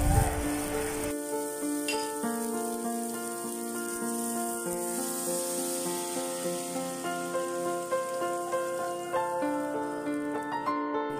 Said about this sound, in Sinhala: මේ ටික හොඳට තෙම්පරාදු වුණාට පස්සේ අපි හදාගත්තු පුලියන මිශ්‍රණය මේකට වක්